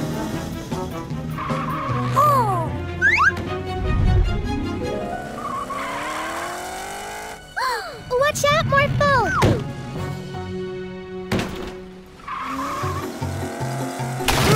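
A cartoon race car, morphed from a magic pet, speeds and skids in loud whooshing engine sweeps with tire squeals, mixed with bright music and sound effects while a voice shouts over it.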